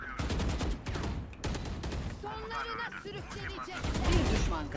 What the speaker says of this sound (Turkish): Tüm füzeler ateşlendi.